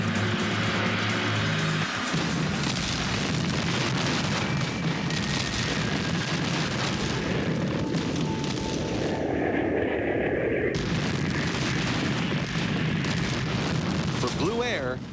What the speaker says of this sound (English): Blue Air's fearsome B-1 and B-52 bombers swoop in to blast the enemy's runway